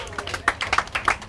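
Spectators at a lawn bowls mixed pairs match clap for a good shot, scattered irregular claps close by with voices talking over them.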